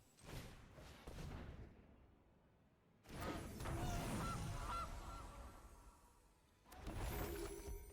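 Goose honks from the Gilded Goose card in the MTG Arena digital card game, a few nasal honks with a mechanical thump, then a pause and another louder burst of honking near the end.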